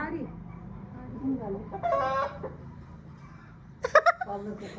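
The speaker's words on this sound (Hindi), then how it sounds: "भैया ने फ़ोन के अंदर मुर्गे की आवाज़ निकाल दी और इसको बार बार सुना रहे थे" A rooster crow recording plays through a phone's small speaker, followed by a second louder crow. A voice talks and a live rooster answers in between.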